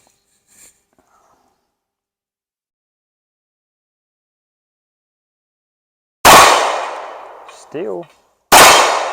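Two sharp, loud pistol shots from an FN 509 at an outdoor range, fired about 10 yards from the target, a couple of seconds apart after a long quiet stretch, with a brief voice between them.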